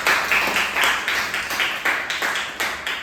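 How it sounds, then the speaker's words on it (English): Meeting audience applauding a speaker, a steady, moderately loud patter of clapping with rhythmic pulses from a small group, continuing evenly without talk. "Let us give him a big round of applause."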